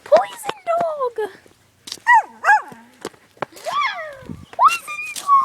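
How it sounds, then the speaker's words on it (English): A dog whimpering, yipping and giving short barks close by, in quick irregular bursts of rising and falling whines, mixed with people talking. "It's a poisonous dog."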